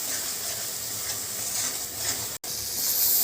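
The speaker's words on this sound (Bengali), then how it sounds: "আমি মশলাটাকে ভালো করে কষিয়ে নেব" Spice masala for chana masala sautéing in a pan, a steady close hiss and sizzle with soft stirring scrapes throughout, briefly cut off for a moment near the end.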